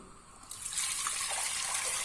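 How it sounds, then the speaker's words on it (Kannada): Water pours into a pressure cooker holding toor dal and moong dal. It begins half a second in as a steady, close, splashing stream that continues without a break, with no voices. "ನೀರು ಹಾಕ್ತಾ ಇದ್ದೀನಿ."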